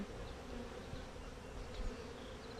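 Honey bees buzzing around a beehive, a dense steady hum of many insects close by, continuous and fairly faint, with no voices.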